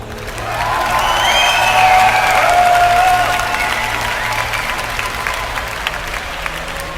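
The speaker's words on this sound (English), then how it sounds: "Quite a cheer for him there." A large esports crowd at a StarCraft tournament, MLG Orlando 2011, cheers and applauds for the player BoxeR, a loud swell of clapping and whoops that peaks early and then slowly tapers off.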